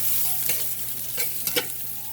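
Mushrooms frying in a skillet, a continuous close sizzle with a few soft stirring scrapes, no voices.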